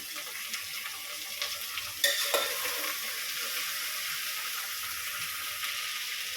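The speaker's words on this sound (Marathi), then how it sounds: "गाजर बटाटा टोमॅटो आता हे छान परतून घेऊया" Carrot, potato and tomato sautéing in a pan, with a steady broadband sizzle throughout and a sharper clatter of stirring near the middle.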